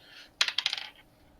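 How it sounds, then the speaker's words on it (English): Dice rolled onto a table during a tabletop role-playing game, a quick clatter of several rapid bouncing clicks that settle within half a second, close and fairly loud with no talking. "I'm gonna roll the dice"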